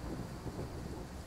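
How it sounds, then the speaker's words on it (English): Deep, rolling thunder from a storm in the train simulation game Train Sim World 3, a steady rumble with rain, loud and continuous through the short stretch with no talking. "You hear the thunder."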